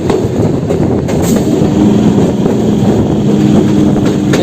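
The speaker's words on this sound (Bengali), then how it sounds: "আরেকটা কিন্তু লোকাল ট্রেন আসছে পাশের লাইন দিয়ে" A local train on the adjacent track near Howrah rumbles past loudly and close, with continuous wheel clatter and rail noise throughout and no talking.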